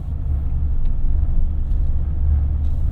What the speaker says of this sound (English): besides the really knobby tires, I mean, these create quite a bit of road noise